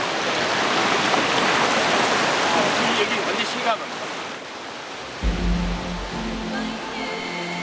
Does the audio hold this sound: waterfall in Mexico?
yes